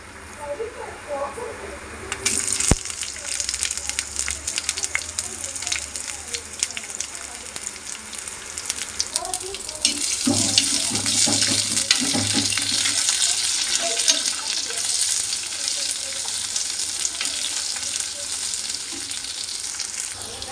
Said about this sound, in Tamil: இப்போ இது கூட வந்து வெங்காயம் சேர்த்துக்கிறேன்.